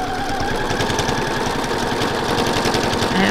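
Home sewing machine running a straight stitch for thread painting on a beach landscape, a steady fast mechanical chatter of needle strokes that stays loud and close throughout with no talk.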